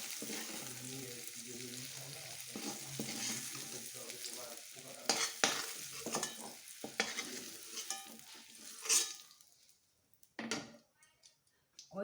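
Potatoes frying in oil in a pan make a close, busy sizzle with spoon scrapes and ticks, fading into near quiet and a few last clicks at the end.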